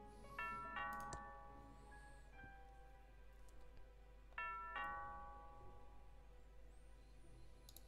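A two-tone doorbell chimes twice inside the video game Thimbleweed Park, bright ding-dong notes ringing out over a steady low background hum, with the second ring arriving a few seconds after the first.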